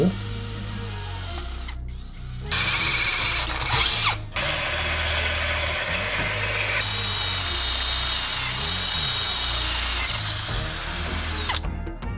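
A brushless cordless drill runs loudly in long bursts with brief pauses, its whining motor grinding and rattling as it bores through steel.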